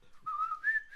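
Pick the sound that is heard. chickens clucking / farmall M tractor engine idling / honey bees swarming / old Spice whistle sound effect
old Spice whistle sound effect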